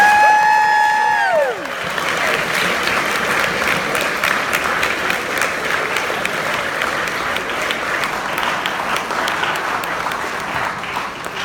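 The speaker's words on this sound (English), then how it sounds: "Let's give our wrestling team another round of applause." A school assembly audience applauds a wrestling team: after a sung note ends, steady dense clapping from a large crowd fills the room, with some cheering mixed in, sustained and fairly loud.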